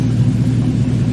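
A race car engine rumbles steadily at the start of a drag race in the mobile game Top Speed, a loud, continuous low-pitched drone with no talk over it.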